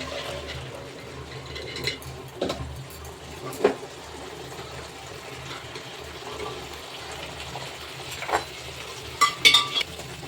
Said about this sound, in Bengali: এবারে সেদ্ধ করে রাখা ছোলাটা জল শুদ্ধই আমি ঢেলে দেবো